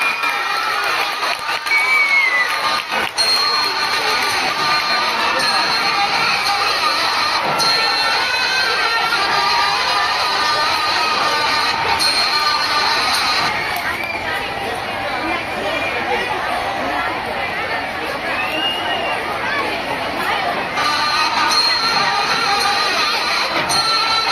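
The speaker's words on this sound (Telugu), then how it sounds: "క్లాప్స్ కొట్టాలమ్మా, క్లాప్స్ కొట్టాలి." A school audience at a teachers' transfer event cheering and shouting, with children's voices and chatter forming a loud, sustained crowd roar throughout.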